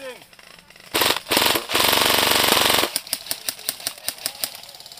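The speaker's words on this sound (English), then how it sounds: "He's got a good position and he's firing" Airsoft guns firing during a 95-player battle in Hong Kong, with a long loud burst of rapid full-auto fire followed by a rhythmic string of single shots, close and sharp, with voices faintly behind.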